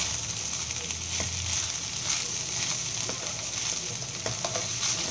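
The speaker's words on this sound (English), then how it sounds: "Just keep stirring. It's like a stir fry." Capsicum rice sizzles in an uncovered pan as it is stir-fried, a steady bright crackle with soft scraping and clinks of stirring, close and fairly quiet, with no voices.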